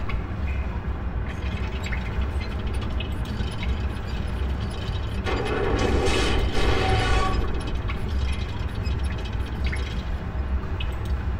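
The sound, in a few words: crank turning gears against a spinning water wheel, Myst III video game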